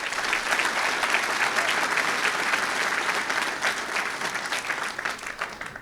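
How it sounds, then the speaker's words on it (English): Audience at a political meeting in a hotel claps for the candidates, a full, steady round of applause that tapers slightly toward the end. "So for the candidates, and you'll meet them later on, a round of applause"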